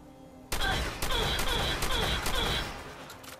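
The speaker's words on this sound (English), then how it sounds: "And shoot the hell out of Ada." Rapid gunfire in Fallout 4 as a player shoots the robot Ada, a dense burst of repeated shots with sharp metallic hits starting abruptly and continuing for several seconds, loud and close.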